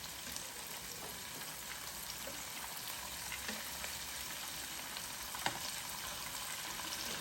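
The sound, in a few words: shrimp egg rolls frying in oil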